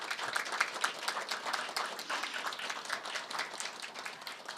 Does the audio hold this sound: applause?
yes